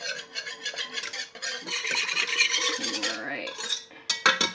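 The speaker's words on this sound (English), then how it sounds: "stir that up." A spoon scrapes and clinks around a pot while liquid is stirred into beef burgundy gravy, rhythmic close scraping strokes with metallic knocks against the pot's sides and a few sharp taps at the end.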